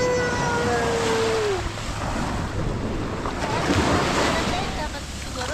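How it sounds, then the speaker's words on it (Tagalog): Broad rushing roar of ocean surf with heavy wind buffeting the microphone, continuous and loud, with a brief whistling tone early on. "Ang laki ng alon."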